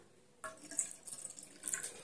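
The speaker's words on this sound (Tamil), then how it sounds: "கூடவே ஒரு 1/2 கப் போல தண்ணி ஊத்திக்கலாம்." About half a cup of water poured into a kadai already holding milk for ragi semiya payasam, a short splashing, trickling pour that starts abruptly and runs for under two seconds, close up with no talking.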